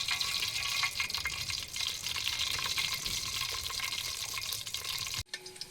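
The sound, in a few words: chillies frying in hot oil for fish pulusu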